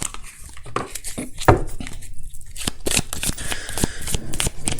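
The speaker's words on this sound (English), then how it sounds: "I'm going to pull from the Romance Angels Oracle cards." Romance Angels Oracle cards being shuffled by hand, producing close, papery riffling and soft slapping bursts that repeat irregularly, with no talking.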